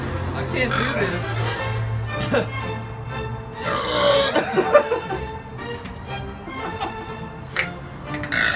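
Burps during a beer-drinking burping contest among a group of men, short guttural belches under loud chatter and laughter, with several louder bursts midway.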